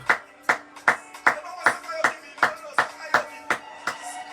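A congregation claps together in a steady, even rhythm during a French-language church broadcast, about eleven sharp, close claps at a brisk pace with faint voices underneath.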